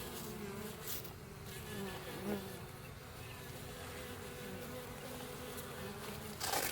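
A steady, dense buzzing of many honeybees at close range, a continuous drone that swells slightly toward the end, with no voices.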